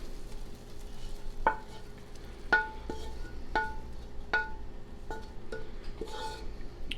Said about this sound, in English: So I'm going to slow cook, and I'm going to put the onions in.